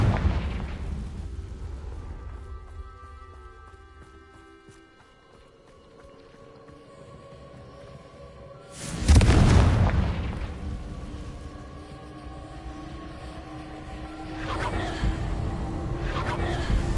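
Hogwarts Legacy Confringo spell blasts: a big booming explosion bursts near the middle over a low rumbling game backdrop, followed later by a second, softer blast, with no talking.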